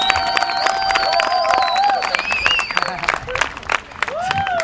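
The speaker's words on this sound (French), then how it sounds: "un petit applaudissement pour Sacha et Tatiana," Crowd at a village festival clapping steadily in a dense patter of applause, with cheers and babble of voices over it throughout.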